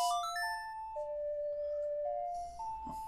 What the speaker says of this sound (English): Yeah, that's the song of time.